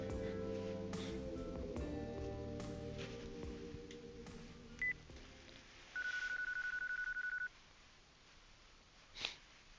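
A cell phone number is dialed in Yakuza 4: background music fades into a few short key beeps, then a long steady ringing tone sounds alone and stops, followed by a faint click.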